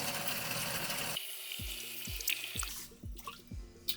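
Water runs into a scooter's water tank with many holes in the bottom, a steady pouring wash that later breaks into repeated low gurgling pulses, close by with no talk.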